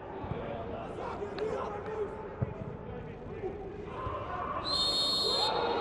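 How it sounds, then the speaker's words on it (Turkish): A sharp referee's whistle blasts near the end over a noisy football stadium crowd murmuring and cheering. "düdük sesi duyacak şekilde dinleyeceğiz bunu"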